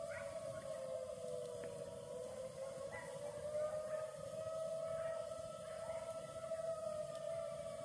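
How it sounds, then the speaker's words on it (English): A steady wailing fire whistle siren drones about 1,000 feet away while faint, high-pitched yips and howls of coyote pups rise and fall over it, heard from a campsite. "So the fire whistle down in Freeden's is going off."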